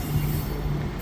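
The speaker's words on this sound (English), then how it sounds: "So this is the blue train, and look at this beautiful one" Passenger train passing on an upgraded railway line near Pretoria, a steady rumbling roll of wheels on track with a faint sustained squeal over it, continuous and moderately close with no voices.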